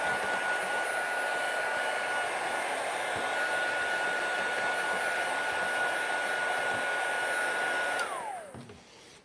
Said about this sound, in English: so I just dried that up because I don't really want to smudge it